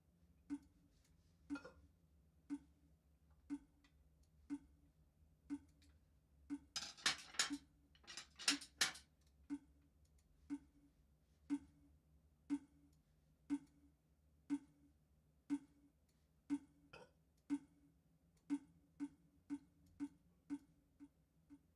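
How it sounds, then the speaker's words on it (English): Steady, evenly spaced clicks of a metronome tick on and on, with a brief cluttered burst of clatter partway through, otherwise alone in a quiet room. "Oh yeah, the metronome."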